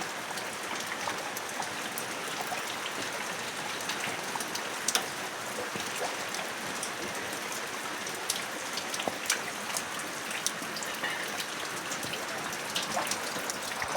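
Heavy rain pours steadily and evenly for the whole stretch, a dense broadband hiss of drops striking surfaces with occasional sharper splashes, no voices.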